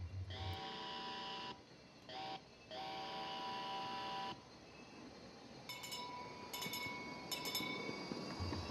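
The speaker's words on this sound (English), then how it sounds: "followed by the same whistle and bell pattern" A long, steady train whistle blows in several blasts with short gaps, followed by quicker ringing bell-like pings over a hissing, rumbling background.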